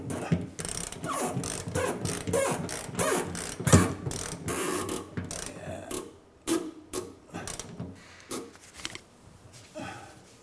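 A special tool locked into the hex of a Mercedes 300SEL 6.3 fuel tank screen ratchets it tight, with quick close clicking strokes that slow and thin out toward the end, no talk.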